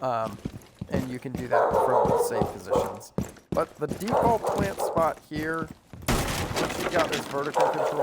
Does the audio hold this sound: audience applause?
no